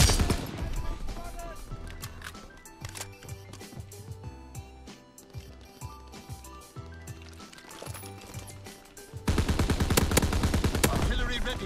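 Rapid turret gunfire in a video game, repeated loud shots firing in fast rhythmic bursts over game music, with a denser, heavier volley toward the end.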